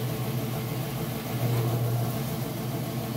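A Whirlpool top-load washing machine spinning at full speed, a steady low hum and whir with a strong low drone that swells slightly midway, running alone without voices.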